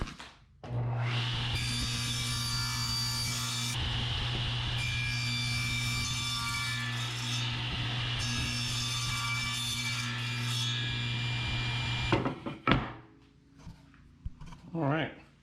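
Power saw making a chamfer cut in wood, a steady loud whining cut lasting about eleven seconds with a low motor hum beneath, then stopping abruptly followed by brief handling noises.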